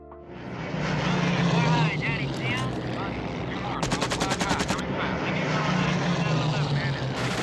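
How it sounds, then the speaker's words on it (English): B-17 bomber engines in a 1990 Memphis Belle war film scene: a loud, droning propeller hum runs throughout, broken by a burst of rapid machine-gun fire and film sound effects, with voices over it. "The Memphis Belle was a real B-17 bomber that completed 25 missions over Europe during World War II"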